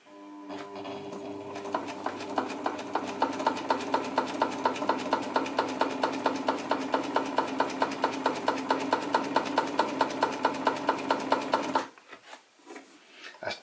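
A PFAFF 92 sewing machine runs at speed for about ten seconds, its needle pounding out a steady, fast mechanical rhythm close by before stopping abruptly, followed by quiet handling noises.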